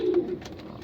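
A racing pigeon gives a single low, throaty coo close to the microphone, followed by softer murmuring in a brief burst.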